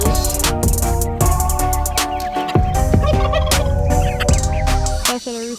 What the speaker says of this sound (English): Oh, and here's our turkey.